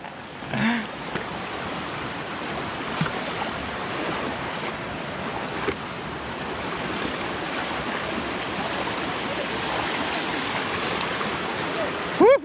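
Eva Falls in DRT, Bulacan pours in a constant broadband roar of rushing water close by, steady throughout with a few brief bumps and faint voices beneath it.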